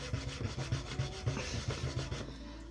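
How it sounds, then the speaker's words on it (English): Hand burnishing of leather, buffing beeswax into it with quick back-and-forth rubbing strokes in an even rhythm, close and soft. "Just get a bit of beeswax on it and then just buff that in the same."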